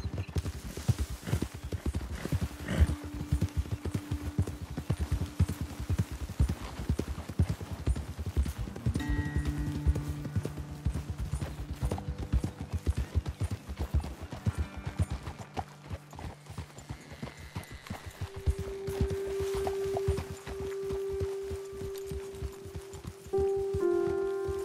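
Horses clip-clopping at a walk in the Red Dead Redemption 2 video game, hooves steady and close over a soft patter like rain, with faint musical tones and a brief whinny-like sound near the end.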